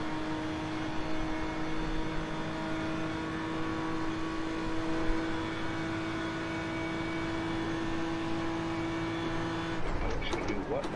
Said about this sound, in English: It's like it almost does remind you of a diesel how long the motherfucker takes to rev up